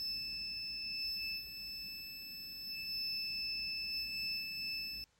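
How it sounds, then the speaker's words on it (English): A multimeter on continuity mode gives one steady, close electronic beep while testing a cable with good continuity. The tone holds unbroken for about five seconds and then cuts off sharply. "When you hear the beep sound, this means this cable has a good continuity and there's no damage done to the cable."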